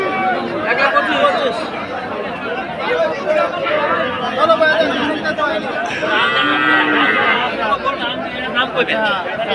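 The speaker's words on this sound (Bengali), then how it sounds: "দেশি ফ্রিজিয়ান ক্রস একটা গাভী, অনেক সুন্দর জাতের গাভীটা" A local Friesian cross dairy cow with a calf moos at a busy cattle market, the low lowing rising briefly from steady crowd chatter and bargaining voices close by.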